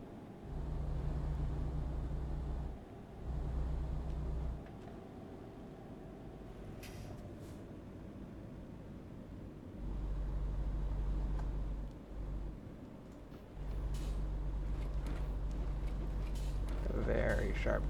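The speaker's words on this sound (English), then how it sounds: "I'm gonna turn on the retarder." A truck's engine retarder braking in American Truck Simulator while hauling logs: a deep, steady droning rumble that cuts in and out several times over a low engine background.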